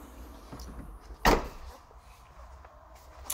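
The folding rear bench seat of a Ford Fiesta ST Mk7 drops with a single solid clunk in an otherwise quiet car interior, with faint rustles before and after.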